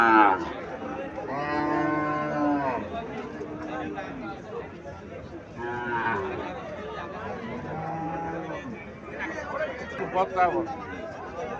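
Several long, loud moos from a Holstein Friesian dairy cow, one after another, close by, with people chattering faintly in the background.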